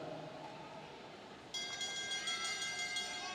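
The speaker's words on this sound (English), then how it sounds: "They get the bell" A bell rings out for the last lap of an international junior athletics track race, its bright, sustained ringing starting abruptly midway and carrying over the crowd and announcer noise.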